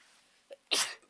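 A person sneezes once at close range, a short sharp intake followed by a loud bursting sneeze about a second long in an otherwise quiet room.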